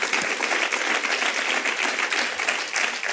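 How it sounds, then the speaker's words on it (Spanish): A church congregation applauds steadily at a moderate distance, a dense even wash of many hands with no voices standing out. "denle un aplauso al Señor, hermanos amados."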